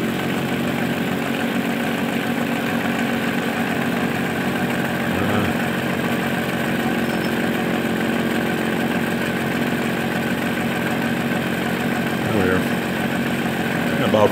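A vintage SUN distributor tester spins an Oldsmobile 4-4-2 distributor at about 400 RPM, giving a steady, loud mechanical whir that holds constant from start to finish.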